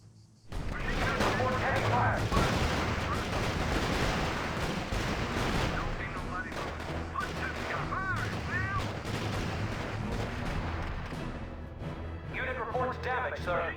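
Battle in the R.U.S.E. strategy video game with dense gunfire and machine-gun bursts crackling continuously, punctuated by heavier blasts, as voices talk over the fighting.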